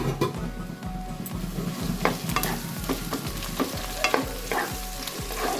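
Minced meat sizzles and fries with onions in a pan for a chicken tadka, broken by a steady run of stirring scrapes and occasional light clinks from the pan, close and continuous throughout.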